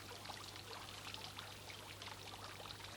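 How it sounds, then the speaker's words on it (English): A level tablespoon of water is poured into a container holding cress seed, giving a faint, soft trickle that runs steadily for about three seconds against a quiet background hum. "And I'm going to add exactly 1 level tablespoon of water, like that."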